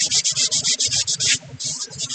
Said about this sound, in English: I'm just giving her a good sanding overall with a super fine sanding sponge